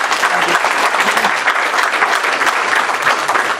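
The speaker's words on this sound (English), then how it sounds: "So, give him a round of applause." Audience at the BSidesAugusta 2014 security conference gives a round of applause, steady dense clapping from many hands filling the room for a few seconds.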